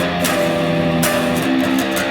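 Distorted electric guitar plays the ending riff of a song, loud and close, with repeated palm-muted open low-string chugs and fretted strikes in quick succession.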